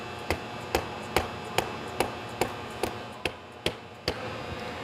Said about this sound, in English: you can use a mallet to tap on the end of your gearbox